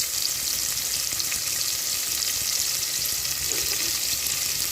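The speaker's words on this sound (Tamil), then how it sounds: "பட்டை, லவங்கம், ஏலக்காய், கட் பண்ணி வச்சுருக்கிற வெங்காயம் சேர்த்துக்கலாம்." Cinnamon, cloves, cardamom and cut onions fry in hot oil for mutton sukka, giving a loud, steady, close sizzle that never lets up, with no talk over it.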